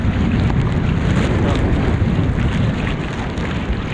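Strong wind buffets the microphone over a rough sea in bad weather, a loud continuous roar with churning water and no pauses.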